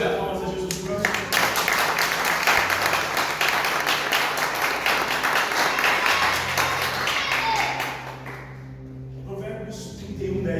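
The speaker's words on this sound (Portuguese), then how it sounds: "Você pode dar uma salva de palmas a Jesus Cristo." A church congregation gives a long, dense round of applause to Jesus Christ during a sermon, steady clapping that fades after several seconds, with a faint tone underneath.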